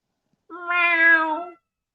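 A single clear, close meow from a house cat rises and falls over about a second, alone in silence.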